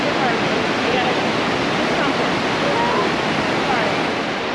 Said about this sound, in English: Here's Hidden Falls.